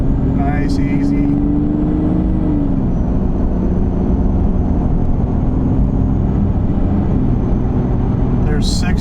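Supercharged car accelerating up an interstate on-ramp, a steady loud engine and road roar with a rising whine that holds throughout.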